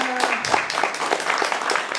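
Brief applause from an audience at an animal welfare forum in Saint-Malo, a short patter of clapping over room noise, with a voice speaking over it.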